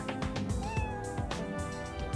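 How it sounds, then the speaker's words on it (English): Cat meowing in the video game Opoona, several short repeated meows in a quick rhythm over a steady game music backdrop, clear and close. "There's another cat in here."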